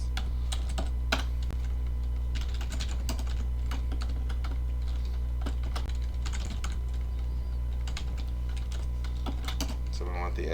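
Computer keyboard typing during a university computer science lecture: brisk, irregular clicks and taps in bursts through the whole stretch, over a steady low hum, with no talking.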